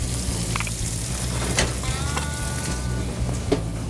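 Cheese melting on a burger under a broiler, a soft continuous sizzle and crackle with a few faint clinks, fairly quiet and without talk.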